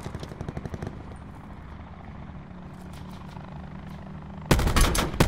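A helicopter in Call of Duty Black Ops 4 chops steadily in the background while a rapid burst of gunfire rattles at the start. A loud, dense volley of shots breaks out near the end.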